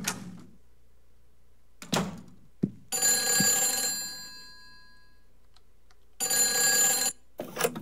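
A telephone rings in the video game Silent Hill 4: The Room, in two bright, bell-like bursts of several seconds each, separated by a gap. Short thumps and knocks are heard before and after the rings.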